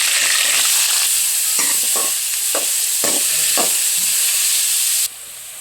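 Garlic, onions, fenugreek seeds and cumin fry in hot oil in a pan with a steady, bright sizzle, punctuated by a few soft scraping stirs, before the hiss drops away abruptly at the end.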